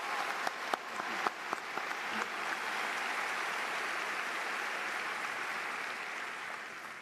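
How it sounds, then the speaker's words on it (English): A large crowd applauds university leaders at a spring commencement ceremony at Auburn University, a few sharp individual claps building into a dense, sustained roar of clapping that holds steady in a big hall. "Let's have a round of applause for these university leaders."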